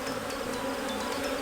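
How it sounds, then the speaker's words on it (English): A swarm of bees hums steadily around a crowded beehive, a dense continuous drone close to the listener with occasional individual bees buzzing past. "there's like double the amount of bees in the bee castle one"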